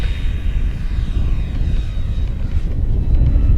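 Flightline 1600mm Corsair RC model warbird with a large 18x12 propeller on 6S lipo power flying a slow pass, its steady loud propeller drone and rumble holding throughout without voices.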